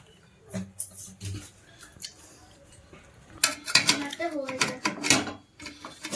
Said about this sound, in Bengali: এই ছানাটাকে এবার আমি ছেঁকে নেব